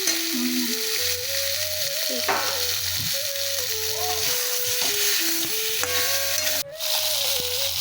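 Lata fish fry in a pan with a close, continuous sizzle and crackle, partly covered by melodic background music.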